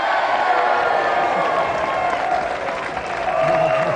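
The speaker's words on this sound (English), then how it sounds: "Another round of applause for our winner" Studio audience applauding and cheering the winner on a video game television show, a dense, continuous roar of clapping with crowd noise and some voices mixed in.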